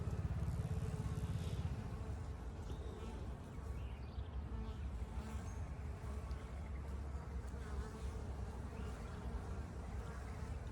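Honeybees buzz at an open hive as the top box and brood box are handled, a constant close swarm hum with individual bees droning past the microphone.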